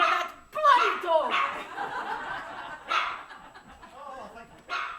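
A dog barks in short repeated bursts close by while people talk and laugh over it throughout.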